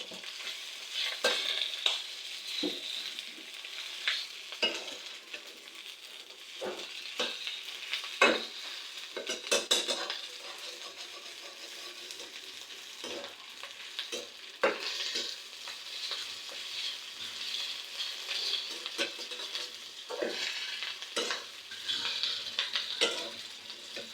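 Pasta is stirred and fried in a pan, a steady sizzle running under repeated scraping spoon strokes against the metal for the whole stretch, with no talking.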